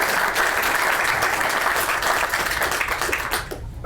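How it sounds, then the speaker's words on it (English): A crowd applauds steadily and loudly, dense clapping sustained for several seconds before starting to fade at the end. "I want to give them a big round of applause"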